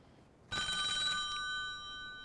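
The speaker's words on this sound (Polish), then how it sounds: "Słyszę telefon." A telephone bell rings once, a loud bright electronic trill that starts abruptly and then fades into a lingering tone in a quiet room.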